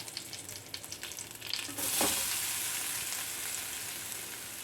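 Grated coconut with cumin and dried red chillies in coconut oil, a quieter crackle of stirring that swells into a loud, steady frying sizzle once the coconut drops into the hot pan.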